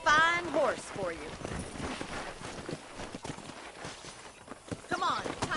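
Horse hooves clip-clopping in the Red Dead Redemption video game, a steady walking rhythm of soft hoof beats heard beneath a voice and other talk.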